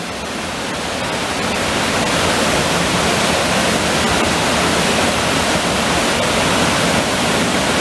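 Steady, loud rushing of falling water, a dense broadband roar that swells slightly at the start and then holds constant with no voices.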